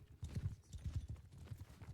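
Horse hooves clip-clopping in a competitive multiplayer video game match, a quick irregular patter of muffled thuds, faint and low in the mix with no talk over it.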